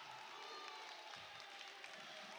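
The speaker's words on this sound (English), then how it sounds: "The Lancer crowd coming alive here in the third." Home crowd at a boys high school volleyball game cheers and roars steadily through the third set, a continuous gym crowd noise with no clear individual voices.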